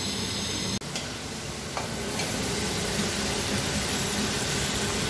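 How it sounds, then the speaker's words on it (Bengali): Prawns fry in a pan with a loud, steady, dense sizzle that runs throughout, broken only by a brief dip near the start, with no voices. "চিংড়ি ফ্রাই"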